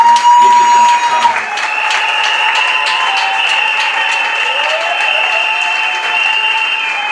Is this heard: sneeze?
no